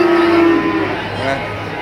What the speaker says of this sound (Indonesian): Ini kayak sapi-sapi Eropa